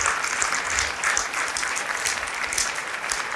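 A stand-up comedy audience applauds, dense steady clapping from many hands sustained throughout, loud and close, with no talking.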